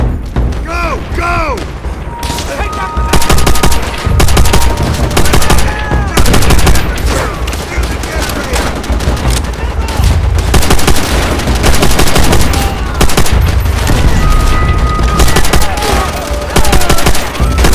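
Sustained machine gun fire rakes from bunkers ahead in Call of Duty: Vanguard, dense bursts layered with booming explosions and battle noise, loud and continuous, with shouted voices underneath.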